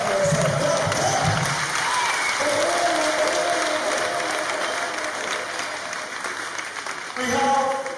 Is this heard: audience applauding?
yes